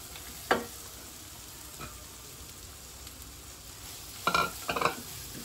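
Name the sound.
vegetables frying in a pan with ginger and garlic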